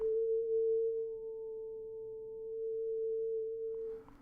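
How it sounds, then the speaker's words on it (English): A steady A440 tone passed through a low-pass filter sounds smooth and pure, with its overtones damped. It holds at an even loudness for about four seconds, then cuts off. "Now I'm going to put it through a low-pass filter which lets through the frequencies less than A441, but dampens all the overtones."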